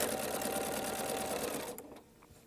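Quilt pieces for a melon block quilt run through a sewing machine in a steady, fast stitching whir that stops abruptly near the end, leaving quiet room noise.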